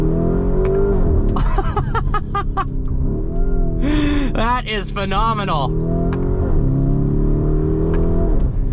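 A 2023 Lamborghini Urus S accelerates with a loud, continuous engine roar, its pitch sweeping up and stepping with upshifts, and crackling exhaust backfires near the middle; a person talks over it throughout.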